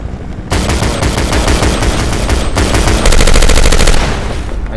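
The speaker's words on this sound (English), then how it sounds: "I hear someone shooting at me." Rapid bursts of automatic gunfire in the video game Double Action crackle almost continuously, loud and close, with a denser stretch of fire partway through.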